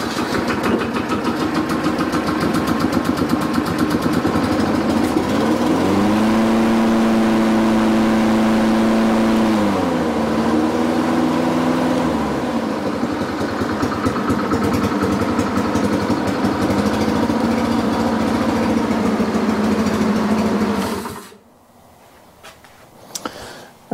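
A Honda Harmony 215 lawn mower's small engine runs steadily and loud for about twenty seconds, its pitch dipping and rising briefly partway through, then cuts off abruptly into quiet.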